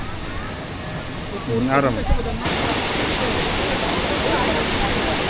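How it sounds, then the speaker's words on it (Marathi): Kondeshwar waterfall near Badlapur roars as a constant, broad rush of falling water, with someone speaking briefly over it partway through. "कसा वाटला वॉटरफॉल कोंडेश्वर"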